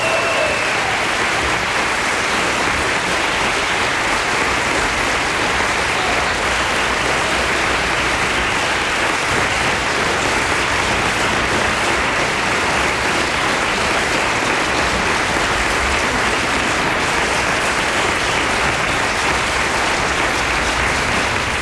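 Thunderous applause and cheering from a large crowd at a live concert after the encore, a dense, loud, unbroken wall of clapping sustained for over twenty seconds.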